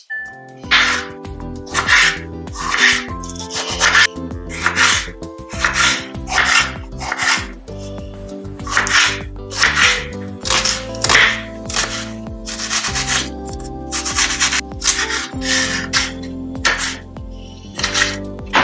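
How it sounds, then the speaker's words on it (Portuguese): A kitchen knife chops tomato and half of a large onion on a cutting board for an omelette, a steady run of close, crisp repeated cuts in quick bursts with short pauses between them. "Eu vou começar cortando todos os ingredientes que vão aqui na omelete."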